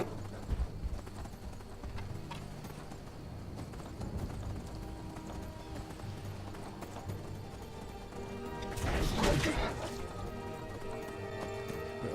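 Horse hooves drumming in a fast charge in the modded video game Skyrim, a continuous clip-clop of galloping with a louder rushing burst near the end, and a voice talking over it.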